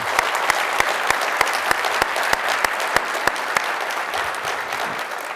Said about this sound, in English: So if we could please give him a round of applause.